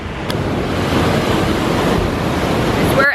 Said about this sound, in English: These waves are absolutely huge.